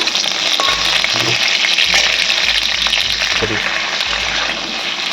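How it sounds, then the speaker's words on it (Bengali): Mixed vegetables fry together in a pan of oil, a loud, continuous crackling sizzle with occasional stirring scrapes. "বাকি যে সবজিগুলো আছে একইভাবে সব একসাথে দিয়ে আমি ভেজে নেবো এবারে।"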